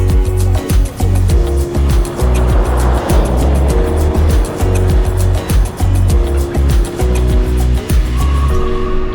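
Motorcycle riding on an open road in Romania after rain, a loud close engine drone with rhythmic low-end pulsing and steady wind and road roar throughout.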